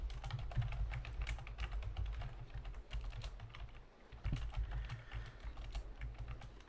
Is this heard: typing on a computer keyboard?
yes